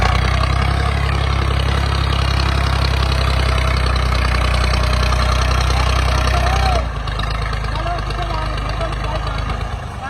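A tractor engine runs close by with a loud, steady low rumble and throb that dips slightly in level partway through and then continues running.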